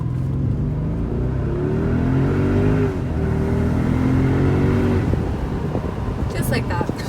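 A 2011 Mercedes-Benz SL 550 Sport engine revs up and down as the pedal is pumped, a close, loud rising and falling roar in several surges, then settling into a steady run, with no speech over it.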